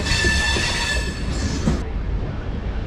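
Train running along the railway tracks near Avadi station in Chennai, a steady rolling rumble with a high wheel squeal fading after a couple of seconds, heard close and without talk.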